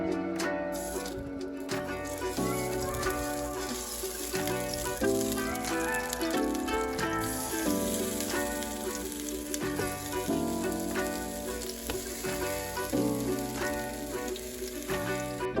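Onions sizzle and fry steadily in hot oil inside a pressure cooker for a pot roast, a continuous crackling hiss beneath prominent background music.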